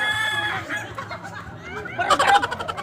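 Chickens cluck and a rooster crows near the end, with voices talking underneath the birds.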